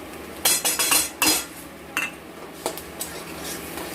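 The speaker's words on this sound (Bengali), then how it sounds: "গুঁড়ো মশলা দিয়ে সামান্য একটু নাড়াচাড়া করবো" Ground spices are stirred in a pan with ginger, a metal spoon scraping and clanking against the pot in a quick burst of strokes, then a few scattered knocks over a faint background hiss; nobody talks.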